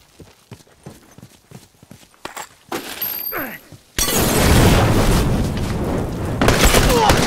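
A bomb goes off in the video game The Last of Us Remastered: scattered faint clatter gives way to a sudden loud blast that roars and crackles on for several seconds.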